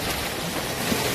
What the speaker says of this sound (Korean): 물이 들어오고 나의 밸런싱 작업을 때리고 물러서고 다시 때리고 또 물러서고